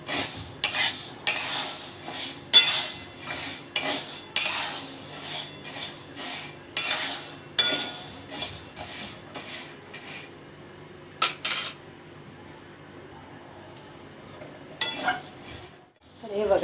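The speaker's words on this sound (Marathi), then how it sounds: "साबुदाणे छान हलवत आपल्याला जास्त लाल नाही करायचे, फक्त भाजून घ्यायचे आहेत ते आपल्याला." Dry sabudana (tapioca pearls) roasted in a pan and stirred briskly, making loud, dense metallic scraping and rattling in bursts, then a quieter pause before more stirring.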